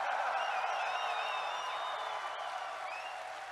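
Crowd cheering and applause at a Tennocon 2019 livestream event, a steady dense roar of clapping and shouting with a few whistles, loud and continuous throughout.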